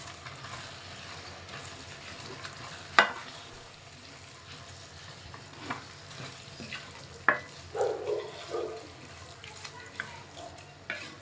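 Jollof rice ingredients stirred and fried in a pot, a low steady frying hiss with sharp utensil knocks against the pot and a brief burst of running water partway through.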